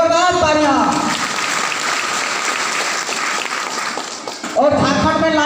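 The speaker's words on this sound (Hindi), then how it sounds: "हमारे महागुरु ललिता मैडम और राजू सर के लिए जोरदार तालियां" A crowd at a Safe Shop business event in Jharkhand claps for its senior mentors in a thick, continuous burst of applause, with a voice over a microphone heard at the beginning and again as the clapping ends.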